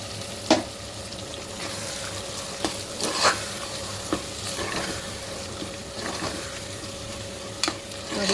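Ground masala paste sizzles steadily in a pan while a spoon scrapes and stirs it, giving a few sharper knocks against the metal over a constant moderate frying hiss.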